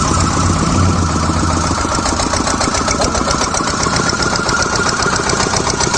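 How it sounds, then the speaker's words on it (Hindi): Diesel engine during a road trip from Delhi to Kufri, running loud and steady with a dense, continuous rumble and clatter that fills the whole stretch without pause and no one speaking. "चल गया डीजल इंजन"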